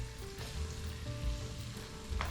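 Fish deep frying in hot oil in a deep pot, giving a steady bubbling sizzle with a few louder pops and stirring knocks.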